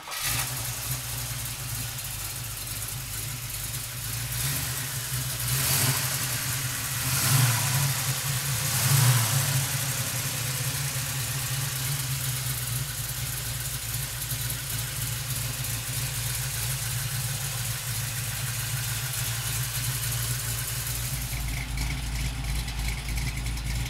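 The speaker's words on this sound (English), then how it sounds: "So come on up and we'll fire this big block up." A 1966 Chevrolet Chevelle's big block V8 starts and settles into a steady, loud idle, with a couple of blips of the throttle early on and a continuous low rumble throughout.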